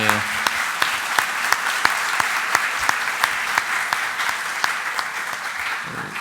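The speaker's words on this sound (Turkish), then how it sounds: "onları bir alkışlamanızı istiyorum" A crowd at a bicycle and traffic safety talk applauds bicycle police officers, many hands clapping in an even, sustained roar for several seconds before it begins to thin.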